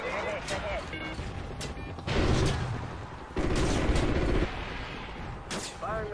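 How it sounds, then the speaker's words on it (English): Missiles fire in the Call of Duty Ghosts video game, a continuous roaring barrage of launches and blasts that swells louder in two long surges, with radio-style game chatter mixed in. "Firing missiles."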